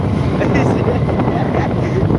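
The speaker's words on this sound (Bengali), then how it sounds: "তো এখন ঝড় বৃষ্টি হচ্ছে" Rain and gusting wind in a storm roar as a dense, steady broadband wash, loud and close with buffeting on the microphone throughout.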